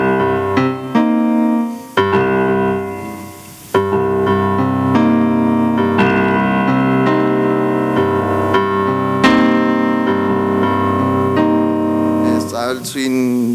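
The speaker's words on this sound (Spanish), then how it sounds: "Pero también está el swing 3/4" Swing music in 3/4 time plays, a loud close ensemble of rhythmic chords and pitched notes with accented attacks falling in a lilting three-beat pattern, continuous for several bars with no voices.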